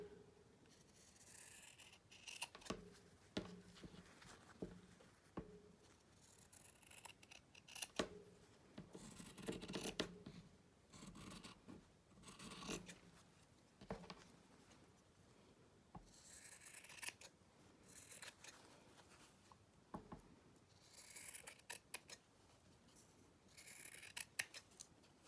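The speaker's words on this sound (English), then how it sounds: "take my fabric scissors and I'm just going to trim this down" Repeated crisp snips of scissors cutting fabric, irregular clusters of close, quiet cuts separated by brief pauses.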